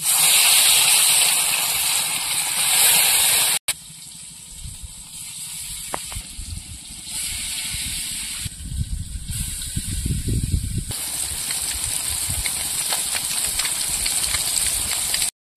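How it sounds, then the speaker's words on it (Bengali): Small Japani puti fish coated in salt and turmeric fry in a kadai of oil over a dung-cake fire, Sundarbans style, giving a steady loud hiss and sizzle that rises and crackles more strongly midway. "এবার মাছগুলো ভেজে নেব।"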